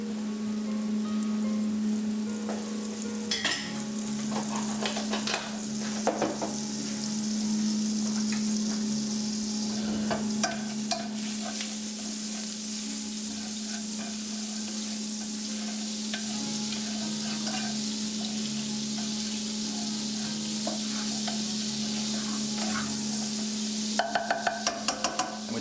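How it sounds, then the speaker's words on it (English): A couple of tablespoons of butter melts in a hot pan, giving a steady, dense sizzle that runs continuously with occasional sharper crackles and a low hum beneath. "the pan's getting nice and hot, guys. And we'll just melt some butter"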